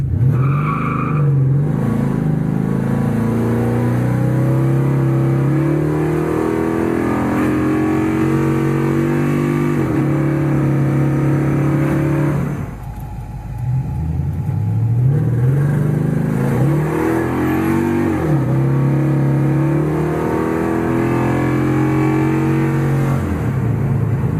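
A 7.3L Godzilla V8 swapped Crown Victoria launches on a drag run on sticky, freshly burned-out tires, its loud engine climbing through repeated rising revs and gear changes, with a brief dip midway before pulling hard again.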